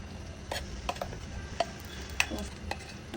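A paste of onion, ginger, garlic and nuts goes into a cooking pan and is stirred, with scattered sharp utensil clicks over a faint, low sizzle.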